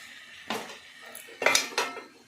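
A metal spoon scrapes and clinks against a pot while coriander is stirred into a cabbage and fish head curry, a few distinct close knocks and scrapes with quiet pauses between.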